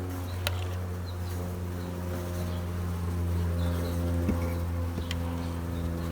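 Honeybees buzz steadily around hive boxes while queen cells go into split colonies, a low constant drone with a few faint knocks and no talk.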